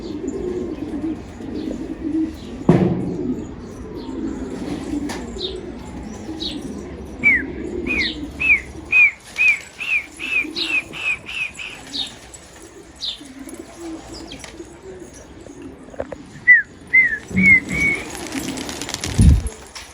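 Pigeons, including a prized kişbir ink pigeon, cooing and chirping repeatedly in a series of short calls, with bursts of flapping wings and rustling outdoors in windy weather.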